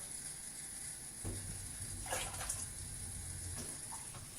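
Warm water runs from a tap into cups at a kitchen sink while macaroni and cheese is being made, a faint, steady splashing trickle with a few louder gurgles midway.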